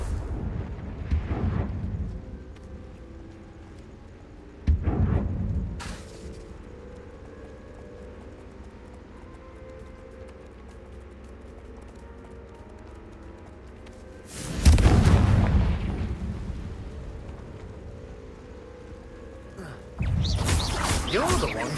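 Explosive Confringo curse bursts in the video game Hogwarts Legacy, several loud booming blasts spaced apart over a quiet background.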